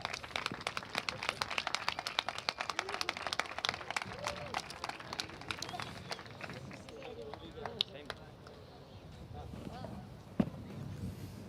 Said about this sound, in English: A round of applause for Charlie Martin.